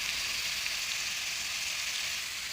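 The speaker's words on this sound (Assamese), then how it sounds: "তাৰপিছত কঁঠালখিনি আগতে এবাৰ ফ্ৰাই কৰি ল'ম" Jackfruit pieces fry in hot oil in a wok with a steady, even sizzle that holds close and constant throughout, with no voices.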